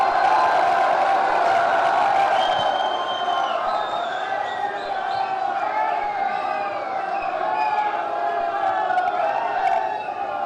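A large crowd at a statue-unveiling event at Mahayogi Guru Gorakhnath college cheers and whoops steadily for Yogi Adityanath, a dense, continuous roar of voices with shouts rising above it.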